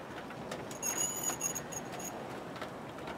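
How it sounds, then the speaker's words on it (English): Aristo-Craft Mallet model locomotive, about 16 pounds, rolling across a reinforced LGB bridge on a garden layout, a soft continuous rumble with faint metallic wheel squeals and clicks, swelling mid-pass and then settling. "Now there's the Mallet over the reinforced LGB bridge."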